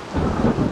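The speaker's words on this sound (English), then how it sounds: "This rain came out of nowhere" Thunderstorm rain in the video game Tower of Fantasy gives a brief, dense rushing patter with a low rumble underneath, loud and steady over a fraction of a second.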